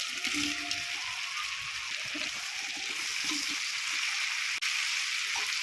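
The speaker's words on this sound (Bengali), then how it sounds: "এবার দেখুন ভেজে রাখা মাছগুলো দিয়ে দিচ্ছি" Fried fish pieces drop into a home-kitchen pan with soy sauce while making chili fish, giving a steady close sizzle and splatter that runs throughout with brief clinks.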